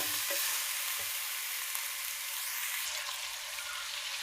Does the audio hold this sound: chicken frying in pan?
yes